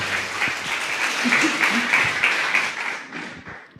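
Sustained applause from a church congregation, steady dense clapping that swells slightly and then tapers off toward the end.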